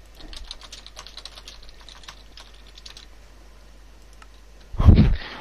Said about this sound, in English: I'm typing into the actual Minecraft server that I'm running